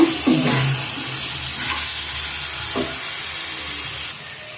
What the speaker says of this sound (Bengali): মশলাটা কষানো হয়ে গিয়েছে এখন আমি দিয়ে দিচ্ছি টমেটো কুচি আমি টমেটো দিয়েও আরেকটু কষিয়ে নেব